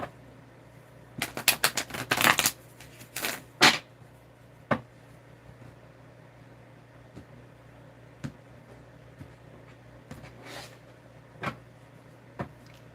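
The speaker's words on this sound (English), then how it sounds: "Now let me shuffle the deck and let's see." Tarot deck being shuffled by hand during a reading, a quick burst of riffling card flutters followed by scattered soft taps and clicks against a quiet room background.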